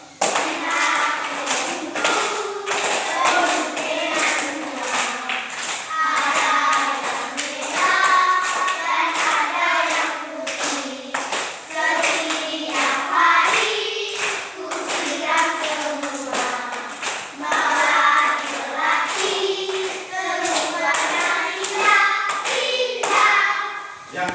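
Children in a classroom clap their hands in uneven rhythmic bursts while singing or chanting along, the claps sharp and repeated throughout.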